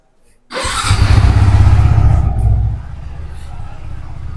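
A Yamaha R15 V3 S motorcycle engine fires up close by after a brief click, settling from a loud initial roar into a steady, lower idle rumble.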